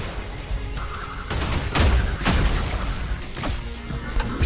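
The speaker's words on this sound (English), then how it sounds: "It caused an explosion!" Explosion in the video game Ultrakill, a burst of loud crashing blasts and rapid gunfire-like impacts over a dense noisy game soundtrack, peaking around the middle.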